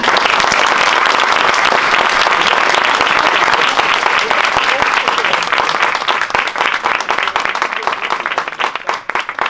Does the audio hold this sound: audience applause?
yes